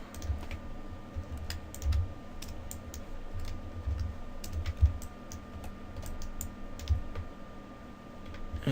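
Irregular clicks of computer keyboard keys pressed while working in Maya 3D software, a steady run of light taps with a faint hum underneath, no voices.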